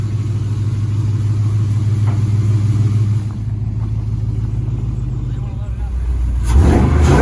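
An engine in a classic GM car runs steadily with a low, loud rumble, revving slightly toward the end, with voices faintly under it.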